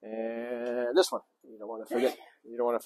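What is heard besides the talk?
No everyday noise stands out behind the speech.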